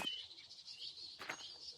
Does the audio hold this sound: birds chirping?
yes